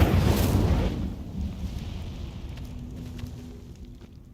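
The Incendio fire spell is cast in Hogwarts Legacy, a loud whooshing burst of flame that fades over several seconds into a low crackling rumble.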